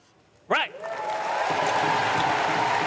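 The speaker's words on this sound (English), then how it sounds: "Warm applause from the crowd." A crowd at a Paralympic powerlifting final breaks into steady, sustained applause after a short loud shout, continuing evenly from a distance.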